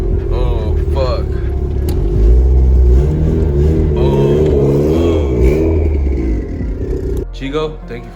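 A turbocharged Honda Civic running about 20 pounds of boost and around 300 horsepower pulls hard on a highway, its engine loud and rising with clear rev sweeps and a gear change near the end, heard from inside the cabin.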